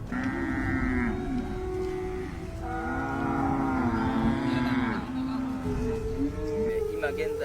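Cattle low in a herd on a farm in the Paraguayan Chaco, several long, overlapping moos rising and falling one after another, fairly loud and close.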